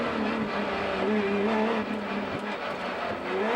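A Porsche rally car runs fast in a continuous engine roar with rising and falling revs over a steady wash of gravel and road noise.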